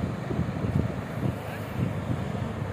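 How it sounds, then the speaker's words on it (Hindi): Rushing water at Hathnikund dam on the Yamuna makes a steady, broad roar, heard from a distance with wind buffeting the microphone. "पानी की आवाज देखो भाई"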